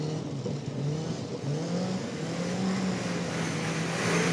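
Sports car, an Autocar sports car contender, accelerating hard at full throttle with clutchless paddle upshifts; the engine note climbs in steady rising steps, breaking briefly at each quick gear change, loud and close throughout with no talk.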